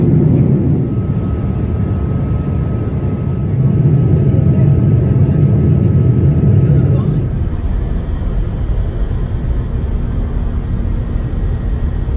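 Airliner cabin on final approach into an international airport in Sydney, a steady loud low engine and airflow rumble that drops in level partway through as the engines ease back, continuing as a softer drone.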